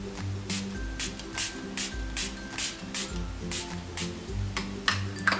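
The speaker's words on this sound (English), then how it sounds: "And then I'm going to take some Milani Make It Last setting spray." Milani Make It Last setting spray is pumped in a quick series of short hissing bursts, roughly evenly spaced, over soft background music.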